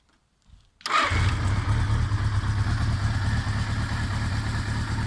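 A Suzuki GS 550 cafe racer project bike, running rich with a non-working choke, cranks briefly, catches and settles into a steady, loud, close idle with an even throbbing beat.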